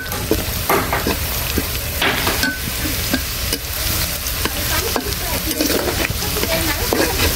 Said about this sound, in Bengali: এটা হচ্ছে ট্যাংরা মাছ রান্না করব।